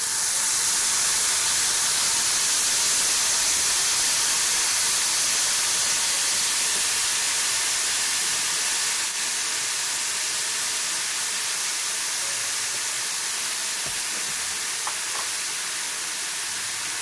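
Burdock root stir-frying in a pan, a steady loud sizzling hiss that runs throughout and eases slightly toward the end.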